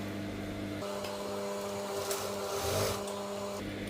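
A sewing machine runs steadily while stitching around the neckline of a saree blouse with lining fabric, giving a continuous mechanical whir that starts and stops after about three seconds, close and moderately loud.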